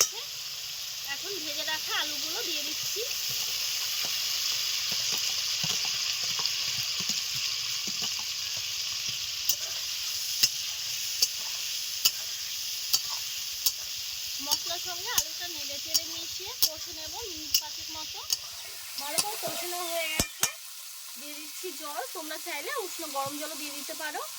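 Spice paste for katla fish kalia sizzles and fries steadily in oil, with repeated sharp scraping taps of a spatula stirring it in the pan, while a voice talks over much of it.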